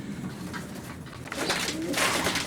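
Racing pigeons in a long-distance racer's loft in Lincoln, cooing and shuffling close by, the low coos steady under a busier rustle that grows louder in the second half.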